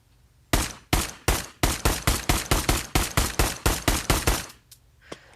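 About fifteen sharp pistol shots ring out in Pavlov VR, fired in a fast, even rhythm with brief pauses, loud and close, followed by one fainter click near the end; no speech.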